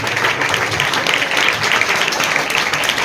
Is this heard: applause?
yes